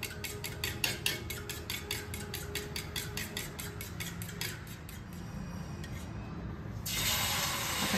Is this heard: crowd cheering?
no